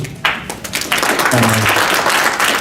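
Audience clapping at a public meeting, a burst of applause building into dense, steady clapping from many hands, with a brief voice underneath.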